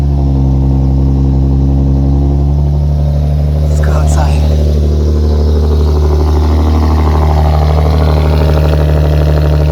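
A Nissan 370Z being started and left running, its steady engine drone loud and close throughout, with a person speaking briefly over it.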